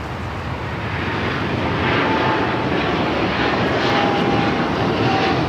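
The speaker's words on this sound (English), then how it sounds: "This is British Airways 282 taking off to London Heathrow on the" A British Airways Boeing 777-300ER jet taking off at LAX roars loudly and continuously, a broad rumbling thrust that builds slightly and holds steady, with no voices.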